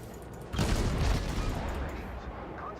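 Naval guns firing in the World of Warships game, a heavy booming salvo that erupts suddenly and rolls on as a dense rumbling barrage, loud and close, with a voice speaking faintly beneath.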